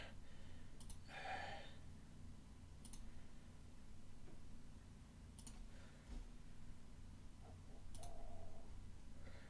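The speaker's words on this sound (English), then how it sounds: "The 6 and 9 keyboard have broken with the amount of times I've tried to click them." A few scattered, faint clicks from computer keyboard keys on a keyboard whose 6 and 9 keys are broken, spaced irregularly over a quiet background hum.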